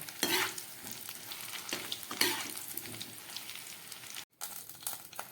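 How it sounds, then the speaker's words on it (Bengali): Potatoes fry lightly in oil for an aloo chilli chicken recipe: a close crackling sizzle with several sharp stirring scrapes, plus a brief dropout near the end. "এই আলুগুলোকেও ঠিক চিকেনের মতো করেই খুব হালকা আছে ভেজে নেব"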